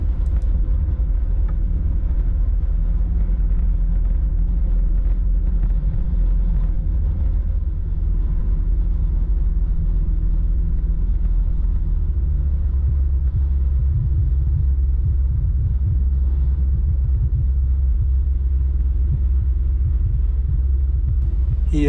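Steady low road rumble and car engine drone from inside a vehicle driving through the Hessen countryside, continuous and loud throughout with no talking.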